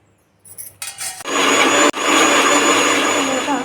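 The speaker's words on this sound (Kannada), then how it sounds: "ಇವಾಗ ಮಿಕ್ಸರ್ ಮಾಡ್ಕೊಂಡು ಬಂದೆ" An electric mixer grinds North Karnataka-style tomato chutney with garlic, starting in short bursts before running into a loud, steady whirring roar with one brief pause.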